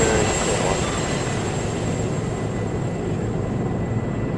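Steady, broad aircraft engine drone in the Arma military game during a landing, a continuous loud roar with a faint high whine on top, holding level for the whole stretch without any talk.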